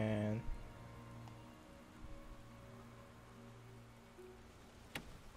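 Rain falls in the Resident Evil 2 video game, a faint, steady hiss of downpour after a brief tonal sound at the start, with a sharp click near the end.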